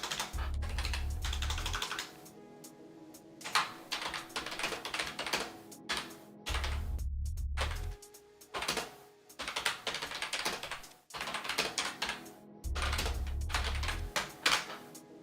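Rapid typing on a computer keyboard while running a Google search, dense bursts of close key clicks broken by short pauses, with periodic low hum underneath and no talk.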